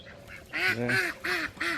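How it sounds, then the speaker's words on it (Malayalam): Ducks at Al Qudra Lake, Dubai, quack in a close run of about five nasal calls in quick succession, clear over quiet outdoor background. "താറാവുണ്ട്"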